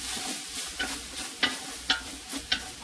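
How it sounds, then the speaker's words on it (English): White onion going into a dark roux on low heat gives a soft, quiet sizzle, with a few crisp scraping strokes of a stirring spoon at an uneven pace. "So first, I'm going to add my white onion."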